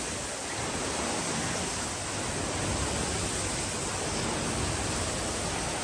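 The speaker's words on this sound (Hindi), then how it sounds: "इस साइड में पानी इधर जा रहा है।" Water rushes steadily at Ana Sagar Lake in Ajmer, Rajasthan, a loud, unbroken wash of flowing water that fills the whole clip.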